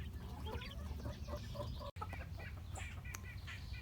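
Several chickens and roosters cluck and chatter close by in a low, busy flock murmur, short clucks overlapping throughout.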